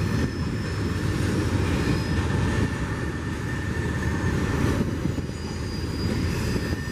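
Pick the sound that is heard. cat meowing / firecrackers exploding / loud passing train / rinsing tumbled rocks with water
loud passing train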